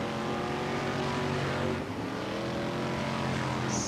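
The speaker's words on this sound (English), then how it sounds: "So the cars go down the home straight." BriSCA F1 stock cars race down the home straight at a Mildenhall oval, a loud continuous engine roar with shifting pitch as the pack passes.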